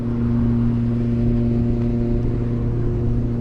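Electric motor whine from a Phoenix S 1600 RC plane with a 5010 750kv motor and stock propeller, held at a steady, loud, even hum on throttle for the whole stretch.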